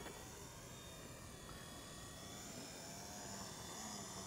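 A V912 remote control helicopter's brushed motors run steadily and close by, a continuous high-pitched whine with broadband buzz that holds level throughout, with no voices.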